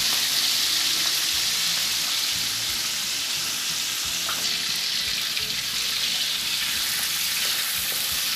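Thin pork leg sausage sizzles and crackles steadily in a pan, a constant close frying hiss with no talk.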